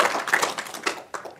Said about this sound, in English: Round of applause for Zach.